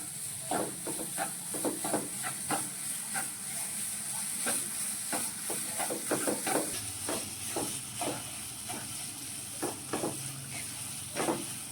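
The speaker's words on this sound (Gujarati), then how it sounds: "જ્યાં સુધી બ્રાઉન કલરનો અને અંદરથી ઘી નો છૂટે ત્યાં સુધી આપણે એને શેકવાનો છે" Mawa roasts in ghee in a pan for barfi, with a spatula scraping and stirring in quick, repeated strokes over a constant hissing sizzle, close and fairly loud.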